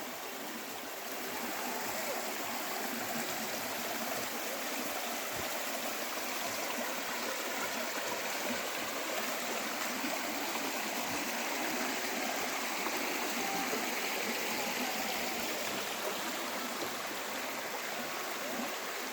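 A stream of clean, drinkable water runs below a field in Sakarya, Turkey, giving a steady, dense rushing and gurgling that stays constant and close throughout with no voices.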